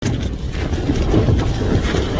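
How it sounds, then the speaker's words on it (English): Storm-force wind roars and buffets a microphone at an exposed wild camp by Crowden Tower, a loud, continuous rumbling gust with no speech. "It's no fun with it being as windy as it is."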